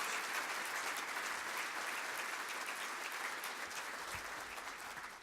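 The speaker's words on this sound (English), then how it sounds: "Let's give her a round of applause." An audience at an annual lunch event claps together in steady, sustained applause, fairly faint and distant, gradually tapering toward the end.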